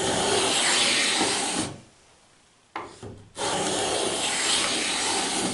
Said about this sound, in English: If your plane is sharp, it'll cut right on through it.